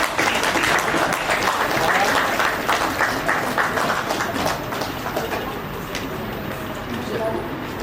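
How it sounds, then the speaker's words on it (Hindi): An audience at a national teachers' award ceremony applauds, a dense, continuous burst of clapping that is strongest at first and then eases slightly, with faint voices underneath. "तालियां बजती रहनी चाहिए।"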